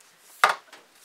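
Oven-shaped cardboard packaging of a Glamlight Cake eyeshadow palette popped open, giving one sharp near click or snap, followed by a faint softer rustle.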